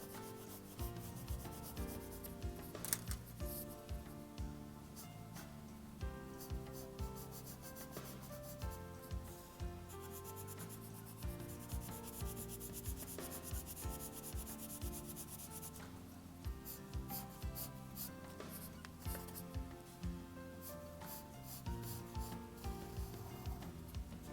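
A pencil shades on paper in soft, continuous rubbing strokes with a steady scratchy rhythm, close and quiet, with no talking.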